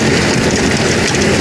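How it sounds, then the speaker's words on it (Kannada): A tractor drives through a wet paddy field. Its engine gives a loud, steady rumble with a continuous grinding roar close by. No one speaks. "ಗದ್ದೆಗಿಳಿಸಿ ಟ್ಯಾಕ್ಟ್ರಿ ಹೊಡಿಯಕ್ಕೆ ಶುರು ಮಾಡಿದೆ"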